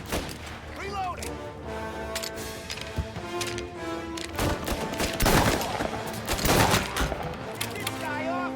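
Gunfire in Mafia: Definitive Edition: dense bursts of shots and loud bangs through a chaotic firefight, heaviest toward the middle and end, with voices shouting over it.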